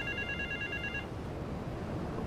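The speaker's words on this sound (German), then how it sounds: "Da, da ist das Telefon." Telephone in the video game GTA 3 giving a single ringing burst of steady electronic trill lasting about a second, followed by quiet game ambience.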